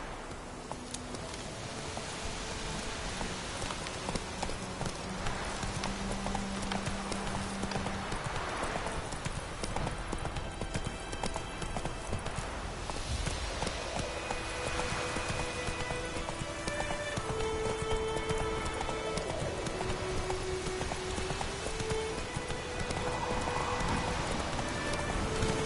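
Roach the horse galloping in The Witcher 3: Wild Hunt, continuous rhythmic hoofbeats mixed with patter like rain and tonal game music, steady and moderately loud throughout.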